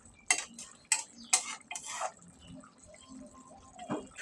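A spoon stirring coriander leaves and Malabar spinach seeds into a dry fish dish in a pan, several sharp metallic scrapes and clinks in quick succession, then softer intermittent scraping, close and without speech.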